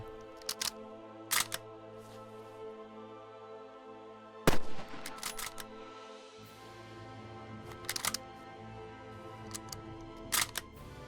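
Rifle handling in a World War II shooter as a K98 is topped off and reloaded: sharp metallic clicks and bolt clacks stand out near and crisp over a steady low ambient hum, with one loud bang in the middle.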